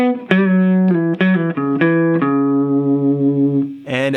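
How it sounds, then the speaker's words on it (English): A slow electric guitar lick from a song's solo steps downward through ringing, sustained notes, each plucked clearly and close, with a last note struck at the end. "Here we're gonna have this really cool descending lick."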